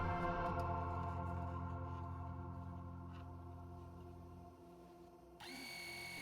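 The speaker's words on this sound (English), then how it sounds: "Then I go ahead and remove most of the used oil with a simple off-the-shelf oil pump." A simple off-the-shelf electric oil pump draws used oil out of a Sea-Doo Explorer Pro engine, giving a steady, close motor whine that drops slightly midway and then shifts to a higher-pitched hum near the end.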